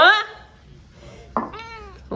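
Two short, high-pitched cat meows, one at the start and a longer one near the end, with quiet pauses between.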